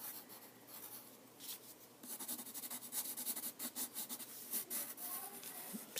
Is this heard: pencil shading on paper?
yes